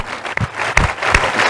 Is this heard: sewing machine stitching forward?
no